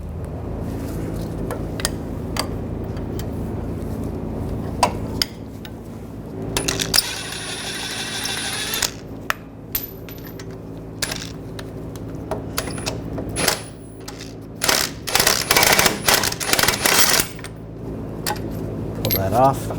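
A socket wrench works the brake caliper bracket bolts on a 2014-2018 GMC Sierra 1500, with bursts of rapid metallic ratcheting and clicks up close, a few clanks and short pauses between runs.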